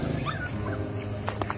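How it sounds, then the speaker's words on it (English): A small puppy trapped in a large woodpile whimpers and yips in a few short, high, rising cries over a steady low background hum. "a little puppy was crying for help"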